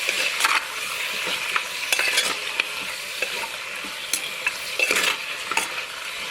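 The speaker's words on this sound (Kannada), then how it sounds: "ಒಗ್ಗರಣೆ ಜೊತೆ ಈ ಮಾಂಸ ನೀಟಾಗಿ ಬೇಯಬೇಕು." Chicken pieces fry with tempering and salt for a simple green chicken gravy, crackling in a hot pan with a steady close sizzle while a spoon scrapes and stirs in repeated strokes.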